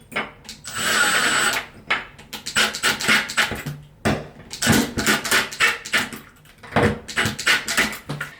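A power drill drives screws through a plastic bidet sprayer holder. One longer whirring run is followed by a series of short, close drill bursts, with handling clatter in the gaps.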